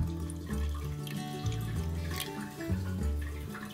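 Apple cider vinegar pours and trickles into a bottle, with gurgling and dripping sounds over soft background music.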